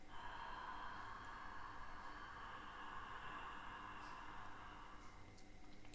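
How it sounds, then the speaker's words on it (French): Ujjayi pranayama breathing, a long, soft, even inhale drawn through a constricted throat, a faint hushing rasp heard close with no talking. "essayez maintenant de pratiquer cette même contrainte de l'arrière de la gorge au niveau de la glotte à l'inspiration"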